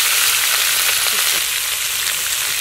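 Drumstick (moringa) pieces drop into hot oil in a frying pan for a castor seed curry, setting off a steady, loud hissing sizzle that fills the short stretch without talk.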